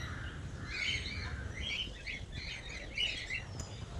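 Parrots of several kinds calling in an aviary at Sarthana nature park in Surat, a steady wash of chirps and squawks at moderate distance with a few sharper calls rising above the chatter.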